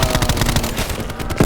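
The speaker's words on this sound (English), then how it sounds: "this upgraded version of the Tesla gun is very cool. It does this red explosion" Upgraded red Tesla gun firing with a red explosion in Call of Duty zombies, a dense crackling burst of rapid electric zaps and blasts rolling on for over a second, ending in a heavier thump.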